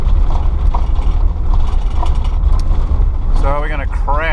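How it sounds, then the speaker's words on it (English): An old van drives across the Bonneville Salt Flats, rattling and clanking loudly and continuously over a heavy road rumble, with someone talking over the din. "my poor old van, because it's sure trying to knock everything out of it right now"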